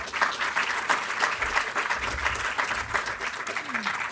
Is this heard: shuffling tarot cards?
no